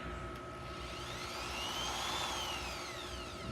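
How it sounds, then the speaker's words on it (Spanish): An electric drill with a bit fitted runs briefly for a test spin, giving a steady whine that rises and falls slightly over a low hum, fairly faint and with no talk. "prender un poco el taladro para asegurarnos de que la broca no se mueva cuando esté girando"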